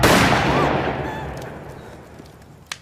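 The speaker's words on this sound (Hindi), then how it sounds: "शहरी ने गोली चलाई" A single gunshot in a Pakistani movie scene, a sharp loud crack at the start that decays into a long reverberant tail, with a faint click near the end.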